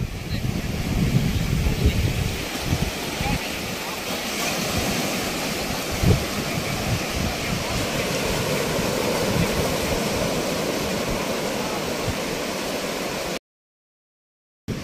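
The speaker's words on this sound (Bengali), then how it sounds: "আর এই যে দেখুন ঢেউ ভাই" Sea waves washing onto a quiet beach at Dublagadi under gusty wind, heard as a steady broad rush that holds at an even level until the sound cuts out near the end.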